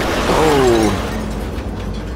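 A demolition charge detonates in Cyberpunk 2077, a single sharp burst with a shattering crack and a short falling tone, then fading into a brief rumbling tail.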